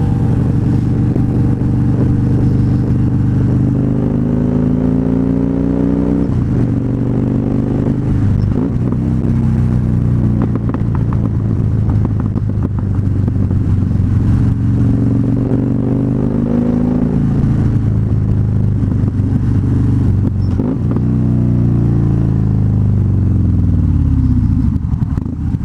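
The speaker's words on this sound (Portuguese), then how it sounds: "Esse é o motor que eu acho mais bonito, o barulho da Harley, cara." A 2013 Harley-Davidson Fat Bob V-twin revs loudly and close by, its deep engine note climbing and falling through several throttle blips over a continuous idle rumble, with no talking.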